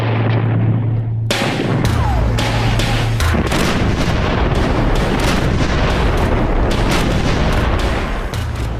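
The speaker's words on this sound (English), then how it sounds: "A fusillade of 76mm shells tore into the advancing Afrika Korps." Dense, continuous battlefield barrage of heavy booms and gunfire, representing British 17-pounder anti-tank guns firing 76mm shells at advancing Afrika Korps forces in the North African desert, with repeated sharp blasts layered over a rumbling low background.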